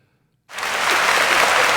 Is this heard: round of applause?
yes